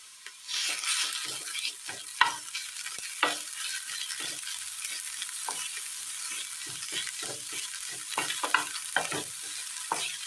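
Shallots with crushed garlic and ginger fry in a pan for a Kerala curry, a steady sizzle broken by repeated scraping stirs of a spoon, close and moderately loud with no voices.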